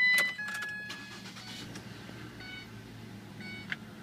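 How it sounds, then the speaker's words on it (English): A FedEx delivery vehicle starts up after a backup camera install, with faint chimes and beeps around the start followed by a low steady idle, heard up close with no talking. "let's go ahead and start the vehicle."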